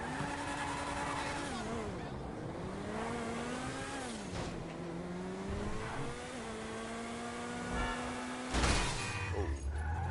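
Supercar engine in the video game GTA V, holding a steady high drone that rises and falls with gear changes and acceleration, ending in a louder burst like a skid or impact.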